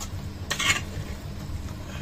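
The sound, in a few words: mixing chicken in a cooking pot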